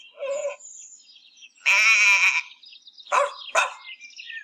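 Goats bleat in short, separate cries, one long wavering bleat among them, close by in an otherwise quiet setting.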